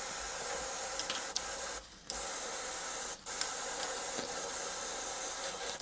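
Steady hiss of an Ammo Atom airbrush spraying thinned black paint, continuous and close, with two brief pauses where the spray cuts off before resuming.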